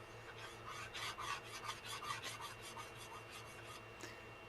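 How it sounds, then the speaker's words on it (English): Sandpaper rubbed by hand over a bookbinding piece during finishing, making a steady run of quick rasping strokes that repeat at a close, even rhythm with no voices. "So now I've moved on to sandpaper"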